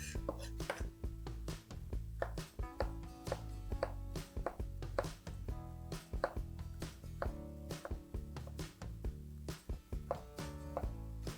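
Knife chops an onion at a medium chop on a cutting board, crisp rapid strikes in uneven bursts, close and clear, with no talking.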